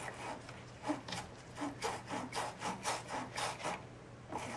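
Corrosion is scrubbed off a car battery terminal post with quick, rhythmic back-and-forth rubbing strokes, about a dozen close, soft scraping passes in an even cadence with no talking.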